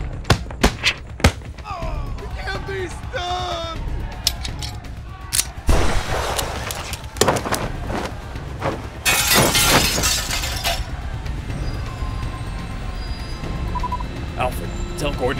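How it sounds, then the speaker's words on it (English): A courthouse blowing up in an audio drama: sharp blasts, shattering glass and crashing debris burst out in several loud bursts, with a long roaring explosion midway, mixed under shouted voices and dramatic sound effects. "The courthouse is going to blow."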